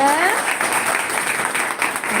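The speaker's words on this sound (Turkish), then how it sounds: "Kocaman bir alkış alalım." Parents clap for a preparatory-level children's ballet class during a family presentation at a ballet school's Şişli branch. Steady, moderately loud applause is mixed with voices throughout.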